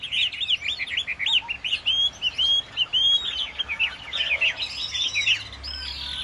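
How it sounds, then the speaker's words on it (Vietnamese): A tam hoàng songbird sings a rapid run of bright, high chirps and whistled trills, close and clear, with no talking over it. "Chim tam hoàng các bác nhá."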